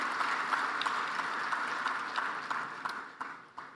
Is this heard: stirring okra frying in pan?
no